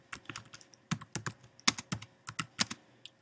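Quick bursts of keystrokes on a computer keyboard as someone types a name for a lesson plan, close and crisp, in short irregular runs with brief pauses and no speech.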